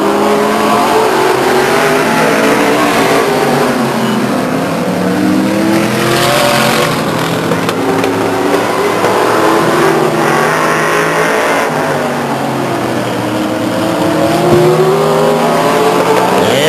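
Race cars roar around the oval at Stockton 99 Speedway during a 1999 heat race, engines revving loudly and continuously as the pack passes, with rising and falling engine tones throughout.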